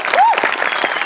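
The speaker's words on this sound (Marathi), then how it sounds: "एकदा जोरदार टाळ्या." An audience at a Marathi comedy show claps loudly, a dense, steady burst of applause with a brief whoop rising over the crowd.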